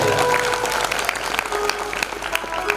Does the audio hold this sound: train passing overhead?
no